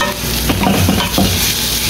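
Garlic sautés in a pan with a close, loud sizzle. Quick stirring scrapes and clinks come through over a brief stretch, with no talk.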